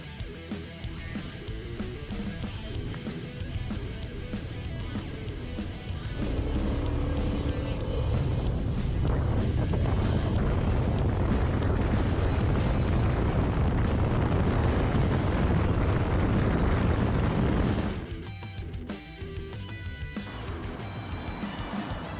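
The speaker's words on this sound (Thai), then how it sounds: "เจตนาของผมเนี่ยเพียงเพื่อทดสอบให้เห็นว่าอัตราเร่งเนี่ย เป็นอย่างไรบ้างนะครับ ก่อนและหลังทำเป็นอย่างไรบ้างนะครับผม" A Yamaha X MAX scooter, being tested for acceleration, revs up with a rising engine roar that holds loud for several seconds, then drops back to a lower idle-like drone along a road.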